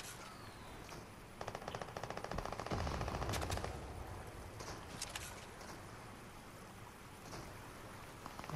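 Bursts of automatic gunfire in the Fortnite video game crackle in rapid strings, with a heavy cluster near the middle and scattered shots after, some close and sharp, others distant, over a low ambient bed.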